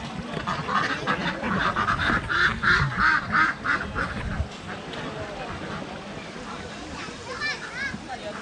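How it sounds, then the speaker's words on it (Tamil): Ducks on a river in Ihlara Valley quack in a loud, steady run of calls close by, then fade, with people talking around them and a voice in the background. "வாத்து பாருங்கள், வாத்து."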